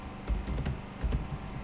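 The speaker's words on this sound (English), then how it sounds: "I will type the email address of the person I want to send message to" Keys clatter on a computer keyboard in a brisk, uneven burst of typing, several sharp close clicks in quick succession with brief pauses, alone without speech.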